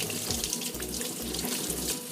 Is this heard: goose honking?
no